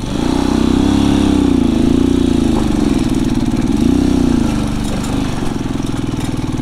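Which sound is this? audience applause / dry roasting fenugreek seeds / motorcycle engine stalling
motorcycle engine stalling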